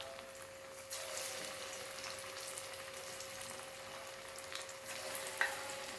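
Sweet corn pakoda batter fries in hot oil over a low flame, giving a continuous close sizzle and bubbling with occasional brief stirring crackles.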